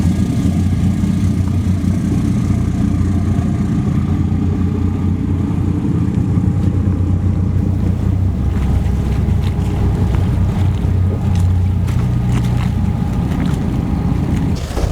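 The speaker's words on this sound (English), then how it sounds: "got all three engines running now on straight through exhausts" A World War II motor gunboat, MGB 81, runs three engines on straight-through exhausts, two on V drives and one on a central shaft, giving a loud, steady, continuous rumble with wind and water noise over it.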